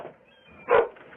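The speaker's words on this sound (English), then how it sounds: "Dog." A single dog bark sounds from behind a door during a sheriff's search-warrant entry, one short loud burst near the middle, amid faint background noise.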